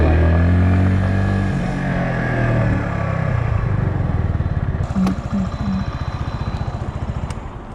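A 2022 CF Moto Papio, a small budget motorcycle, droning loudly and steadily while being ridden, its engine note dropping into a rapid pulsing putter, with faint wind noise and a few brief clicks.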